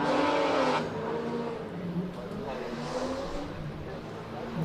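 A Porsche GT3 climbs the hill at a classic car hillclimb, its engine a steady loud drone under commentary, with a brief louder burst at the start before settling into a sustained mid-distance roar.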